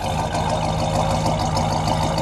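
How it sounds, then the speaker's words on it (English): A 1968 Chrysler Newport convertible with a 383 engine idles through its exhaust, a steady low rumble with a slightly uneven burble, heard close and alone. "Let me come back here and listen to the exhaust."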